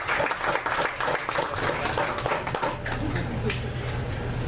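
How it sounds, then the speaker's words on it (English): Applause from a comedy club audience at a café show, a steady wash of clapping with some louder individual claps and a low background hum, sustained throughout. "Give yourselves a round of applause."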